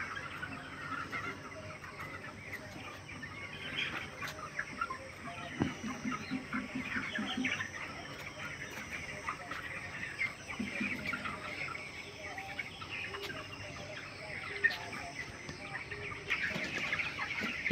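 Farm chickens cluck in scattered, uneven bursts against a steady background hum, moderately close and unaccompanied by talk, in foggy weather.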